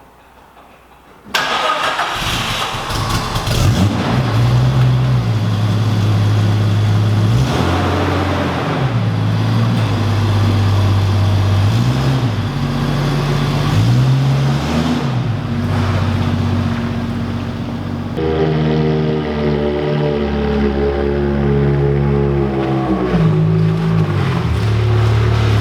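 A Ferrari engine cranks and catches, then settles into a loud, rumbling idle with repeated throttle blips as the car is driven in; the deep engine note rises and falls close by with no talking.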